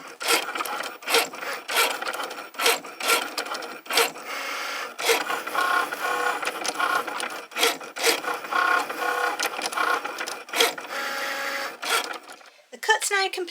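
A Cricut cutting machine draws in its mat and cuts a Christmas cake topper, giving a steady run of quick rhythmic whirring and tapping strokes with brief pauses, close and moderately loud throughout.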